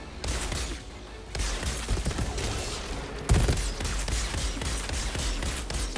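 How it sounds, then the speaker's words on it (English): Shotgun blasts and rapid fire from the video game Outriders, a dense, continuous barrage of shots over busy game effects, with one heavier blast standing out midway. "Shotgun sniping, baby!"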